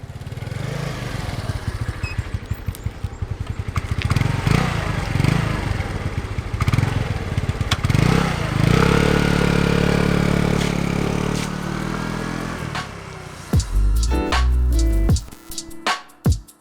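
A motor scooter rides along a road in Ninh Binh province, Vietnam, its steady mid-pitched engine drone and rumbling wind running throughout, with clattering bumps and a few sharp knocks near the end.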